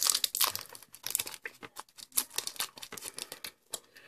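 A Super Lemon sour candy wrapper is torn open up close, crisp crinkling and tearing of plastic in quick irregular bursts, fairly clear with no talking over it.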